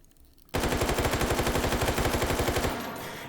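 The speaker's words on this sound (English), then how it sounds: "it is very controllable in full auto" A Stoner 63 rifle chambered in 5.56 NATO fires on full auto in the VR game Hot Dogs, Horseshoes and Hand Grenades: one loud, sustained burst of about two seconds with a rapid, even rhythm of shots, then a fading tail.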